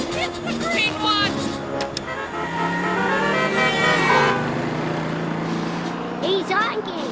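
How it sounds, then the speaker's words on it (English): Cartoon car horn honking in a Larry-Boy animated episode, sounding in repeated toots amid busy music and effects while voices talk over it. "He's honking!"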